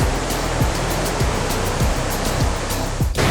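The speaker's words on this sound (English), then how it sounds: "I just got here to the base of Rutledge Falls." Rutledge Falls, a waterfall in Tennessee, roars steadily at its base, a dense, continuous rush of falling water heard up close with no voices.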